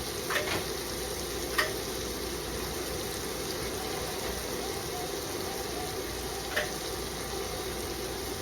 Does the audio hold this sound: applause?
no